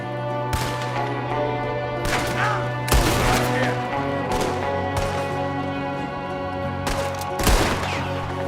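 Gunfire rips through an ambush shootout in Red Dead Redemption 2, with loud overlapping shots, bursts and sharp cracks going off steadily throughout.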